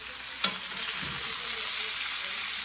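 Venison backstrap frying in hot, browning butter in a pan, giving a steady loud sizzle with one sharp clink of a utensil near the start.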